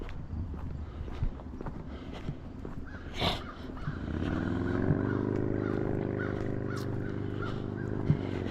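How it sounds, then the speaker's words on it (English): On an outdoor walk in Maine, a motorcycle's engine drone swells in partway through and holds as a steady harmonic hum, after earlier crow caws and footsteps. "I hear a motorcycle."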